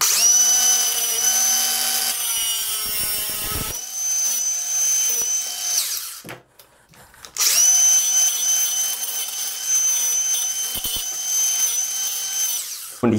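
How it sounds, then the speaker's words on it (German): An angle grinder cuts a stainless steel piano hinge to length for a storage bench, a loud, close, sustained high whine that runs for several seconds, drops out briefly, then resumes and carries on to the end. "Und das schneiden wir jetzt auf Länge zu. Das machen wir mit einer Flex."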